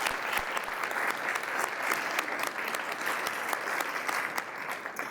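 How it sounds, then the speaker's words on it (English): Audience applause for sponsors at the 2023 ATHENA Leadership Awards, steady dense clapping from a sizable crowd that holds evenly throughout at moderate loudness. "Round of applause for all of our sponsors,"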